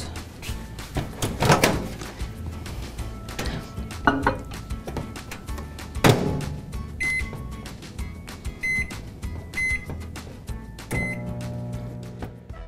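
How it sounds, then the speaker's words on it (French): Food being placed into a microwave oven in a home kitchen, with clinks of dishes, a few sharp knocks and a firm door closing near the start, followed by several beeps from the keypad. "Je vais envoyer ça dans le four micro-ondes pour 1 minute."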